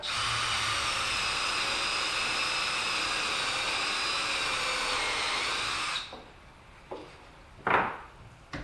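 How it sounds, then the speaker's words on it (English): A power drill whirs steadily at high speed for several seconds while drilling into a shelf, then stops, followed by a few short knocks and handling noises. "So I place the thing, I drill it, right here."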